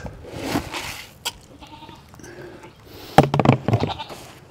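Goats bleat on a farm around feeding time, a few scattered calls early on and then a louder burst of overlapping bleats near the end, heard close and clear.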